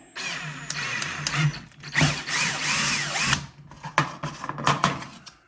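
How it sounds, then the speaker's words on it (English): A power drill with a 3/8-inch bit whirs in close, loud bursts as it bores out a hole during a kayak build, pausing briefly and revving again with some clattering. "now we got our 3/8 drill bit into the drill. We're just going to open up this hole"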